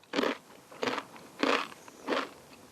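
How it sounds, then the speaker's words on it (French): Crisp potato chip bitten with the front teeth right at the microphone: four sharp, dry crunches about half a second apart, loud and close, with no talking. "Tu vas la croquer avec tes dents de devant et tu te mets bien face au micro."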